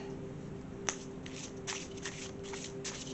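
Tarot cards being shuffled up close, a quiet run of soft riffling flicks and slaps in an irregular rhythm against a faint background hum.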